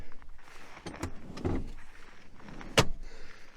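Inside a Geely Monjaro, a rear seat is unlatched and slid forward on its rails: a few soft clicks and a rubbing shuffle, then a sharp loud clack as it locks, close by with low background noise.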